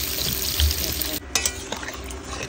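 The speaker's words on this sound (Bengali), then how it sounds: "তো কচুরমুখীগুলো ভাজা করে দিচ্ছে" Pieces of taro (kochu mukhi) fry over a wood-fired stove, giving a dense, steady sizzle that briefly dips partway through before crackling back up.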